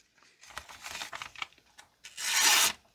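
A Buck 791 Range Elite knife blade rasps and scrapes through material in short strokes, ending with a louder, longer slicing pass, close and with no talking.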